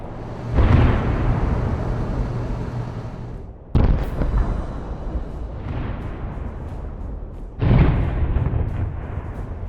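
Heavy artillery fire on a Russian vehicle column, three loud, deep booms a few seconds apart, each followed by a long rumbling decay.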